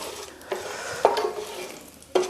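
Whole spices including black cardamom frying in cooking oil in a pan for palak paneer with tofu, giving a soft steady sizzle broken by a few sharp stirring clinks and scrapes, close and moderately quiet with no talking.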